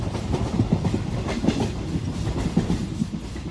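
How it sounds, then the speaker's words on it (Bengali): A passenger train running through the night toward Kalka, its carriages rumbling with a steady clickety-clack of wheels over rail joints, close and continuous. "আমরা ট্রেনে করে অন্ধকারের মধ্যে দিয়ে কালকার দিকে ছুটে চলেছি।"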